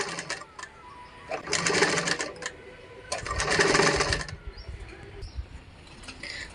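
A sewing machine stitches a skirt made from a ration-shop sari, running in two loud, close bursts of rapid whirring with quieter pauses and handling noise between them.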